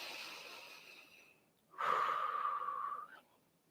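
During chair yoga, a fading exhale gives way to a loud, close inhale through the nose lasting over a second, then quiet; no talking.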